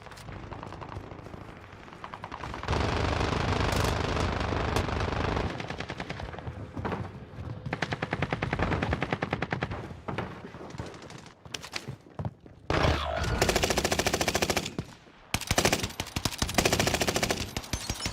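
Gunfire in the video game Warzone: long automatic bursts and rapid volleys fill most of the stretch, loud and close, broken by short pauses and a few quieter gaps.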